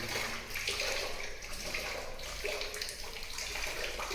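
Water gushes and splashes steadily from a borewell with a rushing, frothy sound, close by, continuing throughout without speech.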